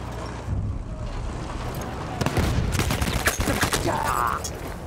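Machine gun fire in the World War I shooter game Battlefield 1, a run of sharp, rapid bursts in the middle of the clip over a constant low rumble of engines and battle noise. Occasional voices come through.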